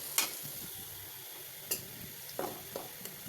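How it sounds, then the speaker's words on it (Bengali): Onions and two bay leaves frying in oil in a wok, a soft steady sizzle with a few light clinks of a stirring utensil, faint and close with no talk. "এখন রান্না করার জন্য কড়াইয়ের ভিতর পেঁয়াজ এবং 2টি তেজপাতা দিয়ে দিয়েছি"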